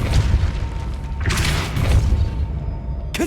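A Depulso repelling spell lands in Hogwarts Legacy with heavy booming impacts, a deep thud followed by a second burst of blast noise, and a sharp hit right at the end, loud and close.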